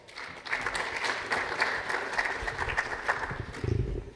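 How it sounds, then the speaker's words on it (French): An audience applauds steadily as a sports official is welcomed to the podium, a dense wash of clapping with some louder thumps near the end. "s'il vous plaît, sous vos applaudissements."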